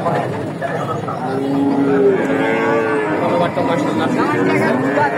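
Cattle mooing at the Bogura Dhap cattle market, several drawn-out lowing calls close by over a busy background, with people talking among the herd.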